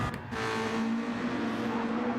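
A race car on the Nurburgring GP Circuit, in a Red Bull Juniors league race, drones steadily with a sustained engine note that climbs as it gets back on the power, loud and close, with no talk.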